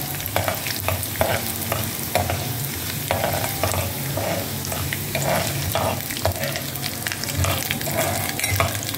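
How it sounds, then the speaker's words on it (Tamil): One dried red chilli tempers in hot oil with a steady sizzle and frying crackle, while a spoon scrapes and stirs the pan in a regular rhythm, close and fairly loud with no talking. "ஒரே ஒரு மிளகா வத்தல் தாளிச்சு, ரெட் சில்லி ஒன்றே ஒன்று தாளிச்சு"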